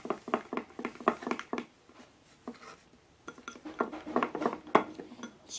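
Thick homemade slime is stirred in a container with a utensil, giving quick, rhythmic clicking and tapping strokes that come in two bursts with a short pause between them.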